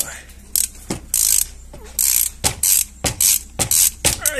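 Ratcheting clicks from a wrench working a bolt loose on a car transmission during an oil change through the speedometer sensor port, coming in short close bursts with pauses between them and no talking.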